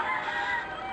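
A rooster crows outdoors on a countryside walk among farm animals, a steady, fairly loud call sustained across the whole second without talk.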